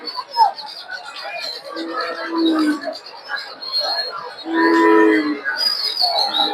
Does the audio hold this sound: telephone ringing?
no